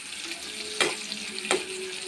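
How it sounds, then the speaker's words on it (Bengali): Garlic and onion fry with a steady sizzle in a pan for potato and greens, with two sharp scraping strokes of the stirring spoon standing out from the hiss. "সুন্দর করে নাড়তে হবে"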